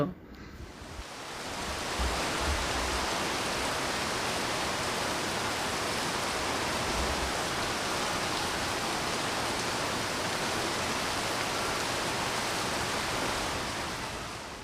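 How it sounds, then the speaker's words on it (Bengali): Heavy rain falls in a continuous, broad hiss that holds steady throughout, with no distinct voices. "এখন যেহেতু বৃষ্টি হচ্ছে"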